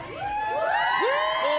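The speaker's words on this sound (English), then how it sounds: "Give a cheer if Jeremy McGovern's good at reading a book" A crowd of primary school children at a school assembly cheering and whooping together, loud and sustained, with many high voices rising and falling in overlapping shouts.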